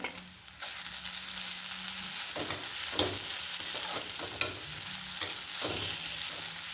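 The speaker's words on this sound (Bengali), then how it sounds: "তো এবার পোস্তটা নাড়াচাড়া করে নিয়েছি" Poppy seed paste with onion being stirred in a pan: steady frying sizzle with scraping stir strokes and a few sharp clinks of the utensil against the pan, close and continuous, no talking.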